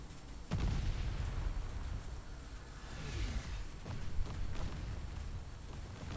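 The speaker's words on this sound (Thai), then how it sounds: "ไอ้รถถังคันนี้นี่มันยิงจังเลยฮะ" A tank fires its gun in the mobile battle royale game Farlight 84, producing a loud, continuous roar of blasts and rumbling booms that fill the whole stretch without pause.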